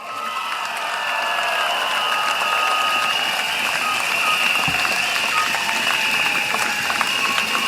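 Applause from a large rally crowd at Jurong West stadium, a dense steady clapping wash that swells in and holds for several seconds with no speech over it.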